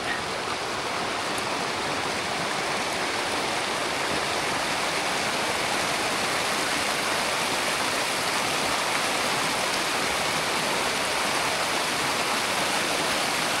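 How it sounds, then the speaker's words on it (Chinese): A mountain stream on the Tour du Mont Blanc trail near Trient rushes close by with a loud, unbroken wash of flowing water. "過小溪。"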